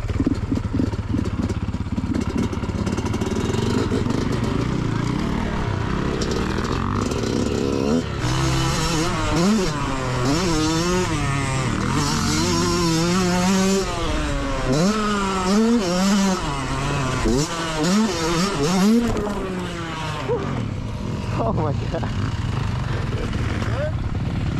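A Yamaha YZ125 two-stroke dirt bike rips around a South Carolina motocross track, its engine loud and close, revving up and down in rising and falling whines through the run, with a rider's voice heard now and then over it.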